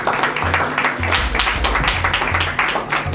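Guests applauding at a civil wedding ceremony in a town hall, a steady, dense wash of clapping filling the whole moment, fairly loud and close with a low rumble underneath and no clear voices.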